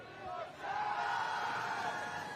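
Homecoming crowd at a high school football game, El Camino Real at Chatsworth, a broad sustained roar of cheering voices from the stands, steady and distant, swelling slightly after a moment.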